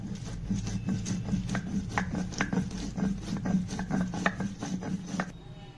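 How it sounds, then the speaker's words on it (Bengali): Ginger and green chillies being ground on a flat grinding stone, a steady rhythmic rasp of stone rubbing back and forth, close and clear, running continuously for several seconds. "আমি আদা আর লঙ্কাটা বেটে নিচ্ছি।"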